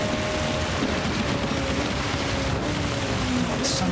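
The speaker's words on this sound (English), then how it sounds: "Lots of racing in the rain." Steady, dense hiss of rain spray and water on the surface fills the whole stretch at a World Touring Car race at Spa in a video game, loud and unbroken, with a faint engine tone underneath.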